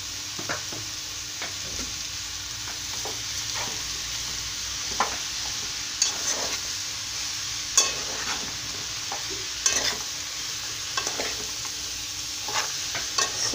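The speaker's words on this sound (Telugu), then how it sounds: "కట్ చేసి పెట్టుకున్న సొరకాయ ముక్కలు వేస్తున్నానండి." Bottle gourd pieces fry in a pan for a milk curry, a steady close sizzle broken by irregular scraping stirs of a spoon through the pieces, with no voices.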